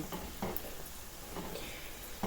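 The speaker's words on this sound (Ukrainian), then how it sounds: "І вже тепер смажу до готовності." Mushrooms and onion fry in a pan for a white mushroom sauce, a quiet steady sizzle broken by a few soft scrapes and knocks of stirring.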